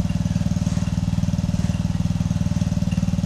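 A 1989 Briggs & Stratton four-horsepower two-stroke engine runs steadily and loudly up close, its rapid even firing pulses forming a continuous buzzing drone with no voices.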